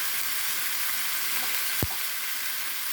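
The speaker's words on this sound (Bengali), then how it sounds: "কষিয়ে নিলাম কুমড়োটা, চিংড়ি মাছটা।" Pumpkin and shrimp sautéed with turmeric and salt in a pan for a Bengali dish, a constant loud sizzle with one sharp knock of a utensil midway.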